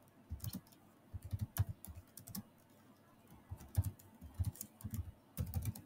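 Keys clatter on a computer keyboard while text is typed into a Figma layout, in close, quick bursts of keystrokes separated by short pauses, with no talking.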